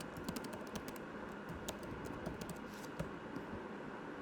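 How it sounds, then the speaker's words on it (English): Someone types on a computer keyboard, and a run of quiet, irregular key clicks and presses sits over a steady background hiss. No one speaks. "Next I click on this, I press enter."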